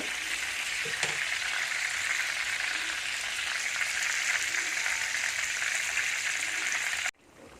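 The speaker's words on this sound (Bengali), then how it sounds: "তো এটা দুইটা পাশ উল্টিয়ে পাল্টিয়ে আমি একটু ভেজে নেব" Pieces of pangasius fish fry in hot oil in a pan, giving a steady, close sizzle that runs evenly for about seven seconds before it cuts off abruptly.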